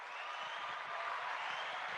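Canned applause effect played on a podcast, a steady wash of clapping from a large crowd holding at an even level for the full two seconds with no talk over it.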